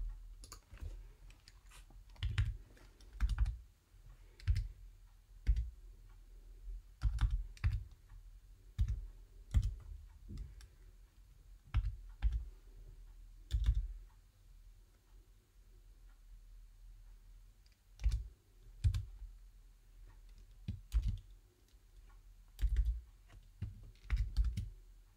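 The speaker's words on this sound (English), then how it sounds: "In this field, you have to type in your remote matching code shown on the VCL user interface." A matching code is typed on a computer keyboard in scattered bursts of crisp key clicks separated by short pauses, close and fairly quiet, with no talk.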